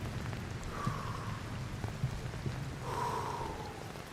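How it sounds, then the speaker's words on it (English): Steady rain falling in the survival climbing game Cairn, a continuous soft wash of drops with faint intermittent tones over it, alone and at an even level throughout. "I like the rain sound."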